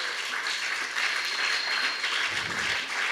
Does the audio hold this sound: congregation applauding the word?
yes